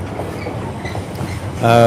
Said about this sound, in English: There's a train line there, and it's like a massive container, a container train.